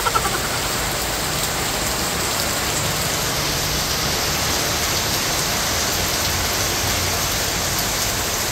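Heavy rain falls continuously on a house with a damaged roof in the Philippines, a loud steady hiss of drops pattering on surfaces, no talk.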